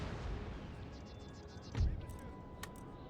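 Artillery fire on a Total War: Empire battlefield, a single heavy boom in the middle followed by a sharper crack, set against a steady rumble of distant battle noise.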